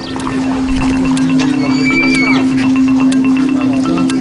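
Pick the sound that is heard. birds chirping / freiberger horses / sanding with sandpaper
freiberger horses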